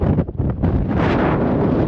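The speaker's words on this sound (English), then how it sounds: "Really windy." Strong wind on Imogene Pass, a mountain pass, buffets the microphone in loud, steady roaring gusts, with a few brief dips near the start and no voices.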